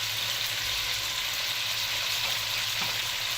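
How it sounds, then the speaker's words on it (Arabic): Pasta sizzles and fries in hot oil with a piece of mastic in a home kitchen pot, a steady close crackling hiss that runs the whole time with no voices. "شوحيها اهي كلها في الزيت اللي فيه فص مستكه"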